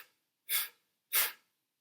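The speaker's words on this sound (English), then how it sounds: "we'll just do a nice forceful exhale" Two sharp, forceful exhales from a single person doing Reiki chopping motions, separated by a short pause. Each breath is loud, close and breathy, and no one speaks.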